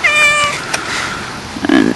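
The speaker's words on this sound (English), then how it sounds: "I actually just caught a little cat that has been coming around for the last 6 weeks" A small stray cat meows close by, a clear high cry at the start and another short call near the end, with soft background noise between and no speech.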